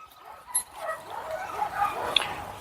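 A dog at an animal shelter gives a few short yips and whimpering barks, moderately close, scattered across a quiet background with no talking.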